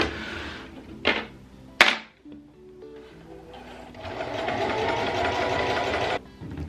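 A sewing machine stitches a thrifted T-shirt into a dog bandana, sewing in a branding tag along the edge: a few sharp knocks, then a steady mechanical whir that runs for about two seconds before stopping, with no talk.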